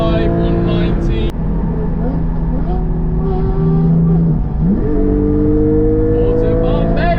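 A Porsche GT4 accelerates hard at high speed on the Autobahn, its engine note loud and steady from inside the car, the pitch climbing through the gears with a brief shift dip.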